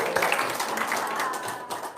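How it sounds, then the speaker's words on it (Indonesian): A crowd at an Indonesian religious talk claps, uneven, fairly close bursts of hands clapping with distinct individual claps standing out, lasting about two seconds without speech. "Tepuk tangan dulu dong."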